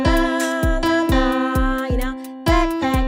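A major third interval is plucked on a stringed instrument, with repeated bright notes in a bouncy, even rhythm over a sustained tone, loud and close.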